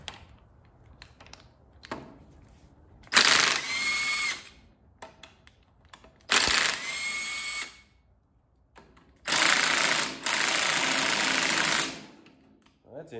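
Three separate bursts of a pneumatic or power wrench loosening cylinder head bolts on a stripped Audi/VW 2.0T TFSI engine, each a loud buzzing whir lasting about a second, with quieter clicks and handling noises between.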